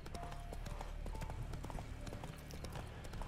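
In The Witcher 3 video game, a horse gallops off-road, its hooves clip-clopping in a fast, even rhythm, close and loud above a steady game backdrop.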